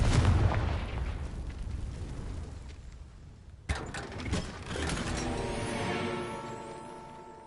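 Confringo explosive spell cast in the Hogwarts Legacy video game: a sharp burst near the middle cuts through steady rumbling game noise, followed by a crackling, ringing tail that fades over several seconds.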